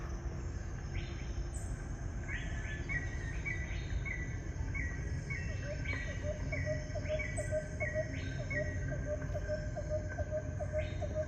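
Layered rainforest ambience with steady insect trilling, repeated bird chirps and calls, and a constant low hum underneath, played through a Tesla Model S external speaker.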